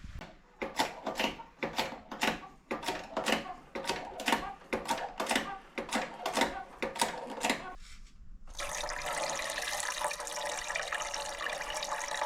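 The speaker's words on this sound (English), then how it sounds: "So what I'm doing now is filling up the system and checking for leaks" Fluid being pumped into a car's Hydragas suspension system, heard as a run of about a dozen rhythmic mechanical strokes, then a brief pause and a continuous hissing rush of liquid.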